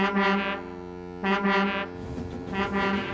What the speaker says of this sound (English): That foghorn is so loud it rattles my dome